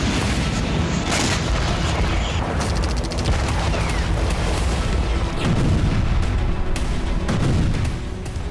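Continuous rumbling bombardment of Grad rocket launcher and artillery explosions on a frontline in Donetsk, Ukraine, with dense overlapping booms and crackling blasts filling the whole stretch without pause.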